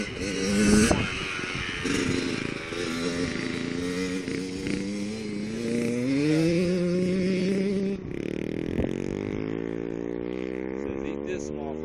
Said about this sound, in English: Aiden and Jarak out riding.